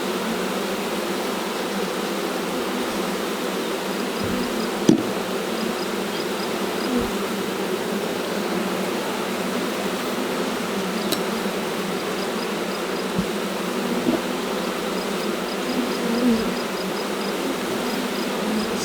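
Honeybees buzzing steadily during a hive inspection of frames in a recovering colony, a dense continuous hum with a few faint clicks and knocks of handling.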